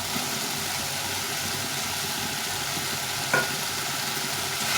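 Fried potatoes are stirred in an oily spice paste in a pan, giving a continuous close frying sizzle with a low steady hum underneath and one brief scrape of a spoon midway.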